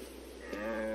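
Video game cow in a quest, a short mid-pitched bleating moo rising faintly over a steady background hum, with no talk.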